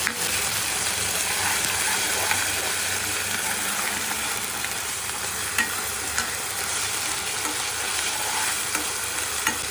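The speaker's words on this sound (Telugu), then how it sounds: "ఈ అల్లం వెల్లుల్లి పచ్చి వాసన అంతా పోయేదాకా కూడా కొంచెం ఫ్రై చేసుకోవాలన్నమాట" Ginger garlic paste frying in a pan, giving a steady, loud sizzle that lasts throughout with occasional scraping from stirring and no talk.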